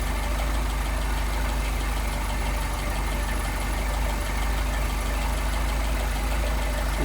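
A Mercedes 190SL with Solex carburetors idles close by, a steady loud low rumble with a slightly uneven, lumpy pulse and no pauses.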